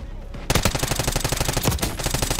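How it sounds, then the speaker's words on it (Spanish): Rapid automatic weapon fire from a hostile shooter in Call of Duty Black Ops 6 multiplayer, a loud, close, steady stream of evenly spaced shots that starts abruptly and continues without pause. "Tirador hostil disparando."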